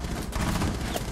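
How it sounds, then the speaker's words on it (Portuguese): Dense, rapid gunfire crackles in a Rainbow Six Siege match, a brief, loud burst of overlapping shots. "Estão cruzando o tiro aí"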